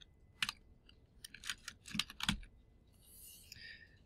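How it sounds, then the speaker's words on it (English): Typing on a computer keyboard in a lecture room, faint scattered key clicks in short bursts, followed by a soft higher rustle. "I could just start typing."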